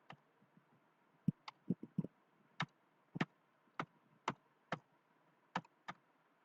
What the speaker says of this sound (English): here just I am typing the email address